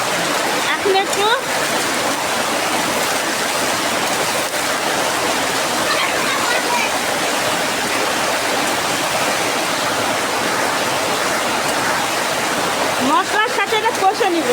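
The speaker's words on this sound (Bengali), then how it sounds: "বাবারে বাবা কি বৃষ্টি" Heavy rain pours in a dense, loud, steady roar that fills the whole stretch, with a brief voice near the start and end during cooking of duck meat.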